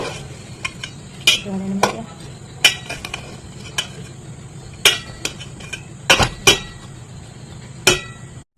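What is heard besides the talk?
stirring cauliflower in a cooking pan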